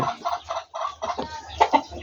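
Hill breed rooster clucking close by, a quick series of short rhythmic clucks in bursts with no talking.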